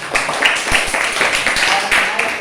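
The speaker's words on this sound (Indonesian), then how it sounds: "kita berikan tepuk tangan" Classroom audience of students applauding in a lesson, a steady patter of many hands clapping at moderate loudness for a couple of seconds.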